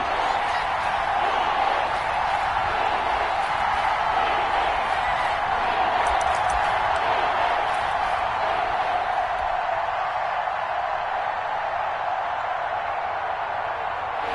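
A stadium crowd in an American football video game on PS4 roars steadily ahead of a big third down, a loud, continuous wash of cheering and noise that holds throughout.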